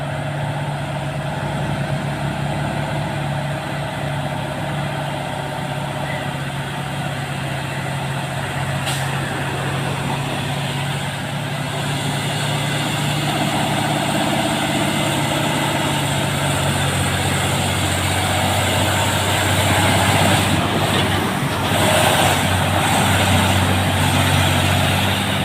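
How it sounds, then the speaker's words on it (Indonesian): A heavy trailer truck loaded with palm fruit grinds uphill, a loud, low diesel drone that swells toward the end with occasional hiss and rattle, no voices. "Satu unit mobil trailer."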